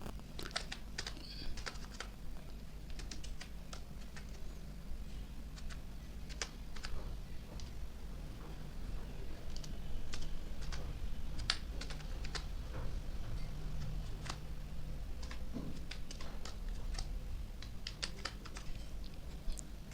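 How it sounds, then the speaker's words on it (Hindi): Steady typing on a computer keyboard while entering CSS code, with crisp irregular key clicks running continuously and fairly close throughout. "टाइप करके एक बार दिखा देता हूँ।"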